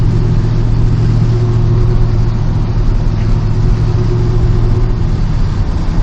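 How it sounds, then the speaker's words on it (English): A 1986 Chevy C10 pickup with a swapped-in 6.0-liter LS V8 cruises smoothly near idle, giving a steady, close, low engine drone with no shifts or revs and no voices. "The 6-liter, it just idles down the road"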